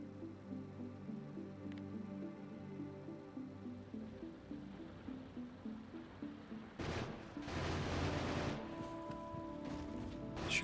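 Automated turret gunfire aimed at attacking spiders in the video game Factorio, a sudden harsh burst of rapid shots after a quiet stretch of rhythmic machinery hum, then continuing more softly.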